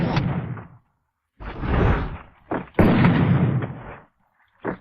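Gunfire sounds from a shooter video game: several loud, booming bursts separated by short silences, the last one brief and sharp, with nobody speaking.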